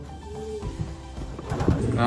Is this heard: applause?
no